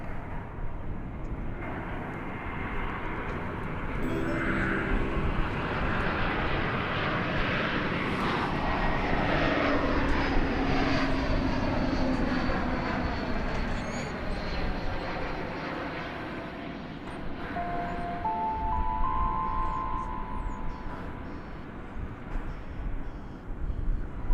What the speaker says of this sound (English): Coming into focus now. It's an Airbus A321.